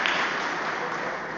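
Dense, steady clapping from a church congregation, continuous and fairly loud for a brief moment with no voices standing out.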